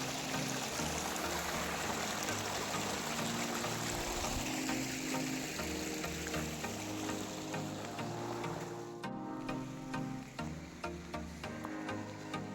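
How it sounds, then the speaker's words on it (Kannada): Water rushes steadily beneath a hanging bridge on a cold night, a broad continuous wash with no talking, holding constant for the whole stretch. "ಇನ್ನು ನೀರು ಇರ್ತಾರೆ, ಸೌಂಡ್ ಕೇಳಿಸ್ಕೋಬೋದು"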